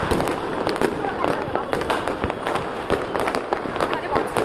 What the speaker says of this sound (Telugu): క్రాకర్స్కి కొంచెం కూడా అసలు దసిక భయపడలేదండి.